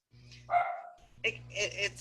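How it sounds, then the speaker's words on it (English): A dog barks indoors in a few quick, close yaps and bow-wows, loud and sharp, cutting across the quiet of a conversation. "my dog barking then."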